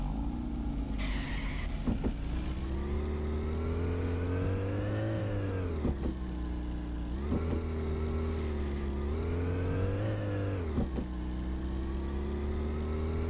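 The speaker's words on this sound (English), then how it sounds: "That sound, that thuddy sound, is a gear change." A video game car engine in Car Dealer Simulator revs and drops repeatedly, with short thuddy gear changes breaking each climb, four shifts in a steady, close mechanical drone.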